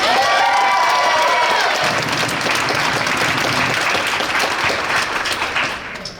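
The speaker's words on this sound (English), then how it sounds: "a round of applause for each one is fine" A volleyball awards banquet crowd bursts into loud, sustained applause with some cheering and whoops, dense clapping filling the room before tapering slightly at the end.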